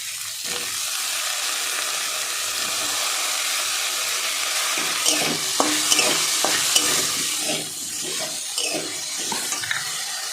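Cauliflower fries in a pan with ginger and green chilli paste. A steady, close sizzle and hiss runs throughout, and in the second half scraping, clattering stirring strokes break in.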